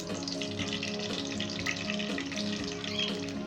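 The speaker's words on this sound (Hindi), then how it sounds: "पैन हमारा गर्म हो चुका है। अब इसके अंदर घी डालेंगे।" Ghee hits a hot pan and starts to sizzle, a soft, steady frying hiss with faint crackles heard close up and quiet, without talking.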